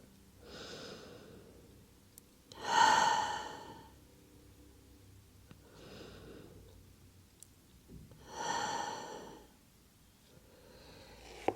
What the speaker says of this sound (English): Take 2 deep breaths and exhale through your mouth.